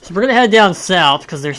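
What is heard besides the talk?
None of the usual background noises is heard.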